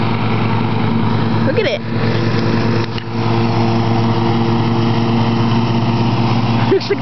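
A riding tractor engine drones loud and steady at close range throughout, with a few brief dips, while a person speaks briefly over it.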